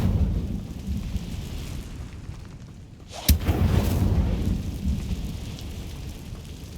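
An Incendio fire spell erupts in Hogwarts Legacy after a quiet lull: a single sharp crack bursts out, then a broad roaring, crackling rush that slowly fades, over a steady rain-like background.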